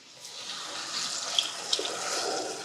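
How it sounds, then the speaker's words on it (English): Water pours steadily into a pot of rice and lentils for a mujadarra, a continuous close splashing stream with a few brighter droplet hits, heard alone without speech. "And we're gonna be using some water."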